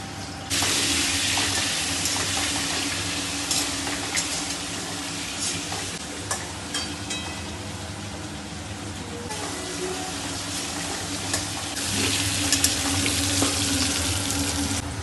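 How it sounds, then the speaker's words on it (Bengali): Potatoes fry in oil in a home kitchen with a loud, steady sizzle and repeated scraping stirs of a utensil against the pan, continuous for the whole stretch. "একটু তেল দিয়ে আলুটাকে আগে ভেজে নিতে হয়, আলু ভাজার তেলেই ওটা হবে।"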